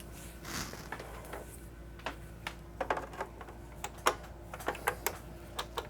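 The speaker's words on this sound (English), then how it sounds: "the owner said the drive was just making clicking sounds" Clicking from a Sega Saturn's CD drive: a run of sharp, irregular ticks and clacks, close and fairly quiet, over a steady low hum with no voices.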